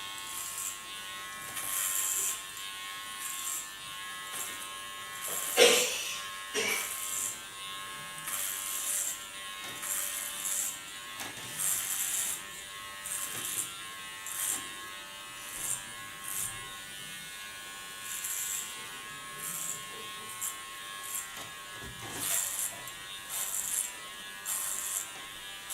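Electric hair clippers buzz steadily at close range, cutting hair in a clipper cut with a clipper comb attached, humming in a continuous drone with brief louder passes as the blade moves through the hair.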